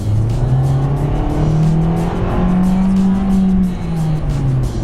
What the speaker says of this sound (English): So this was a kick down, and the engine screams like crazy